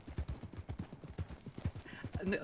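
A horse's hooves clip-clopping in Red Dead Redemption 2, a steady brisk rhythm of close thuds on the ground, with a faint snort or whinny near the end.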